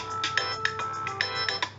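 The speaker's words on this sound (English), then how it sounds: "Sorry, that was my phone." A mobile phone rings with a repeating melodic ringtone, several bright chiming notes in a steady pattern, fairly near and clear, with no talking over it.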